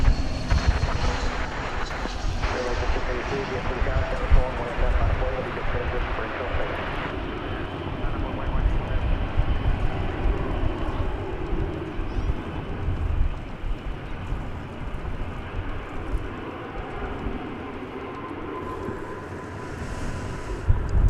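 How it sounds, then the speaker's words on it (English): An American Airlines Airbus A321 arriving at DFW from Los Angeles makes a continuous, moderately loud engine rumble that fades slightly toward the end, with faint talk underneath. "We're going to check in on an American flight coming in from Los Angeles."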